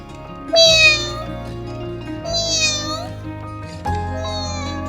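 A cat meows three times, close and clear, each cry rising then falling, with soft music in the background.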